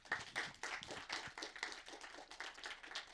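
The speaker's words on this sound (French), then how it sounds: "Et je vous demande de l'applaudir." A conference audience claps at a film-festival talk on the apocalypse before cinema: a short burst of scattered hand claps, moderately near and fairly faint, with no talking.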